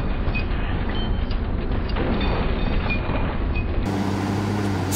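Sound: train passing in the video game Ghost Recon Wildlands

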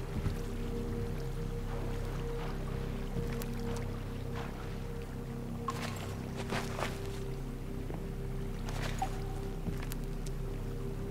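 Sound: flowing water stream in Minecraft video game

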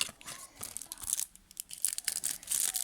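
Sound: tearing open a trading card pack

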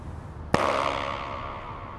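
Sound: shoe tapped, producing flutter echo

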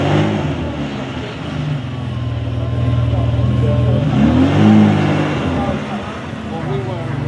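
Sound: Ferrari engine revving, exhaust popping

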